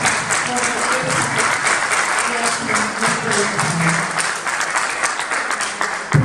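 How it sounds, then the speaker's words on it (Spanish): Sustained applause from a large crowd at a women's gathering in Mar del Plata, Argentina, dense and steady throughout with a few voices mixed in. "yo quiero un aplauso para ustedes y para todas"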